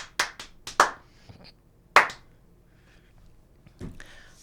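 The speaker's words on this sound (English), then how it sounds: "3 claps" Sharp hand claps ring out close and distinct, a quick cluster of claps followed by a couple of more spaced claps against near silence.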